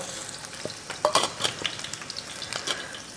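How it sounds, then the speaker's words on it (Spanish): Onions fry in a hot pan and are stirred with a utensil, a close, lively sizzle punctuated by a few metallic scrapes and clinks over a few seconds. "voy a guisar las cebollitas"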